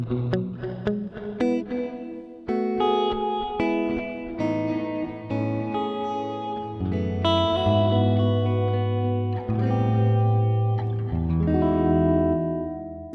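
An electric guitar played through a hall reverb effect, picked notes and chords blooming into long, washy sustained tails that overlap and linger, loud and alone without talk.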